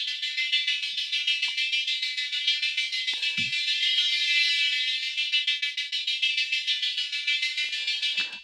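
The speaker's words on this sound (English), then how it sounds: "importing an auto pan, but not using it as a panner, but as an audio shaper" A sustained bright synth tone rhythmically volume-shaped by a triangle-wave auto pan, swelling and dipping in a steady fast pulse throughout, loud and alone with a few faint clicks.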